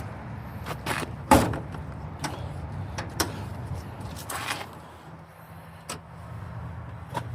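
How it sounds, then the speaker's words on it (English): A 1999 Suzuki Jimny's hood release is popped and the hood opened: a sharp latch clunk, then scattered clicks and thumps over a quiet background hum. "and we'll pop the hood."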